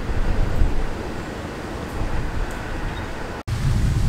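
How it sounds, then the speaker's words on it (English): A CSX intermodal freight train rolls past in Rochester, New York, a steady broad rumble and roar filling the whole clip without pause, close and continuous with no voices. "that was our CSX intermodal train"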